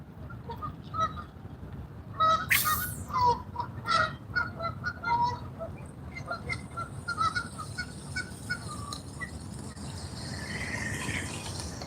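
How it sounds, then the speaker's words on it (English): A flock of geese honks repeatedly as it passes overhead outdoors, the calls rising to a busy burst midway and continuing more thinly over a steady low background rumble. "Never look up when a flock of geese fly by."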